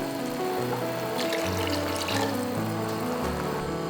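Water pours steadily into chicken adobo sauce in a pot, a continuous close trickling and filling sound running the whole time with no talk.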